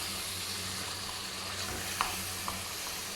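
Mutton bhuna gosht frying in masala with oil separating in a pan, a soft continuous sizzle with a couple of faint utensil clinks while it is stirred.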